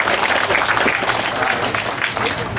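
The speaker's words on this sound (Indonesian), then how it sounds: "Kita tepuk tangan." A crowd at a church roof replacement ceremony claps loudly and continuously for a donation, a dense, steady burst of applause lasting a few seconds.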